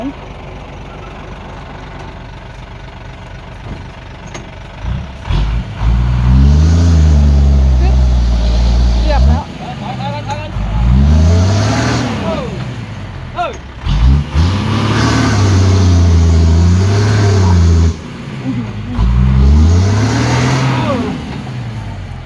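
A car engine revs hard while the car climbs, surging loudly in repeated bursts and settling between them, with people talking over it.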